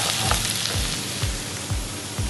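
Onions sizzle steadily in a hot pan for tofu sisig, a dense continuous frying hiss with soft periodic stirring thumps and no voices.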